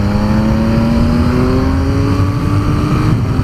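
Triumph Speed Triple RS motorcycle, 2018 model, accelerating hard to overtake: a loud, steady engine howl rising smoothly in pitch as the revs climb, mixed with wind roar.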